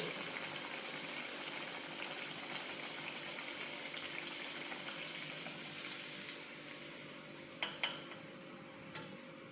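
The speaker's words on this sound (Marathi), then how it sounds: "बाकीचे वडे पण तळून घेत आहे" Steady, gentle sizzling and bubbling of sabudana vadas deep-frying in oil over medium-high heat, with a few soft clinks near the end.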